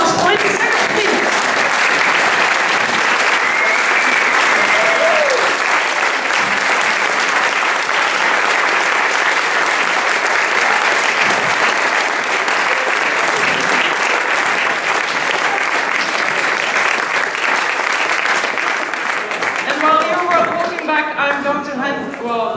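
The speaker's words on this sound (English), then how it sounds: "So I'd like to have a big applause." Sustained audience applause at a Pecha Kucha evening, a dense and steady wash of clapping lasting about twenty seconds before a speaking voice returns near the end.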